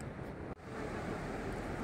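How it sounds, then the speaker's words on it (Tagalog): Strong sea waves at a gray fine-sand beach in Pangasinan roar in a broad, steady rush, with wind buffeting the microphone and a brief dropout near the middle. "Tingnan natin yung malakas na alon."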